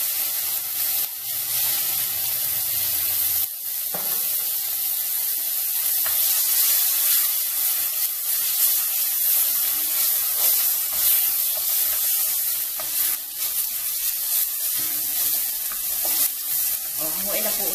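Pieces of liver fry in olive oil in a hot pan, giving a loud, continuous bright sizzle and hiss with small crackles throughout, close to the listener.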